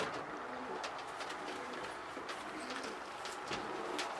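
Jan Aarden racing pigeon cooing softly nearby, a low repeated murmur with faint chirps and rustling in the background.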